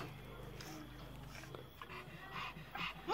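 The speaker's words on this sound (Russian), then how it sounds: "Молодец, хорошая собака, хорошая собака, хорошая." A hungry pug whimpers and wheezes softly while waiting for food, giving faint nasal whines and snuffles close by, with a person speaking to it.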